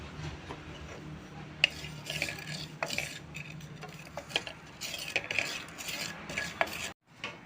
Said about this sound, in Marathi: तर आता हा मी खसखस भाजून घेते.